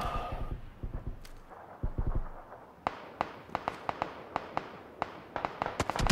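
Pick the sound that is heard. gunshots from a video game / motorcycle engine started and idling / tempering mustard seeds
gunshots from a video game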